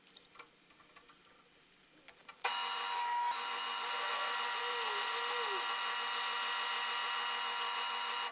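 A power drill bores a 3/8-inch bit through a steel base plate, starting after some quiet handling clicks with a steady loud whine that rises briefly in pitch and holds close and continuous to the end.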